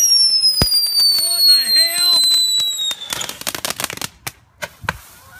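New Year's Eve fireworks set off in a front yard, a whistling rising launch followed by a sharp crackling string of bangs, close and loud, with people talking and shouting over it.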